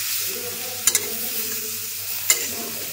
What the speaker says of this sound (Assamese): তাৰপিছতে মই শুকান জলকীয়াকেইটাও দি দিম এতিয়া অলপ হিলাই দিছোঁ